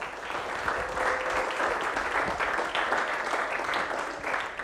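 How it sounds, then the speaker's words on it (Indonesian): An audience in a café at Pondok Indah Mall applauds steadily, dense clapping without a break, with a few cheers mixed in. "Tepuk tangan lagi dong."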